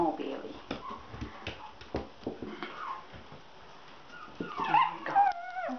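Puppies whimper and yip in short, high, scattered cries, joined by soft rustling. The cries grow louder and more frequent toward the end, with a person's voice talking at times.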